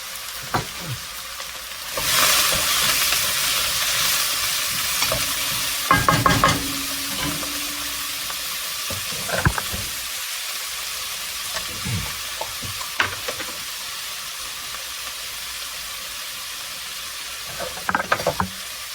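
Garlic fries in a pan over lowered heat, a soft sizzle that swells early and then settles, broken by a few scattered clinks and scrapes of stirring.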